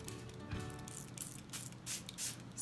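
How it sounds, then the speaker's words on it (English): Primer water is sprayed onto a makeup sponge, several quiet, short hissing mist bursts close by, with faint handling between them. "spray it with some primer water, and then just blend everything out"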